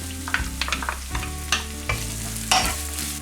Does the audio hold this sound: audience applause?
no